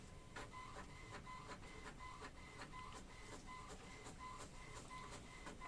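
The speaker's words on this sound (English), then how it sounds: "That's the printer you hear" An office printer runs in a room, its mechanism ticking in a regular rhythm of sharp clicks over a constant whirring hum, faint and steady with no talking.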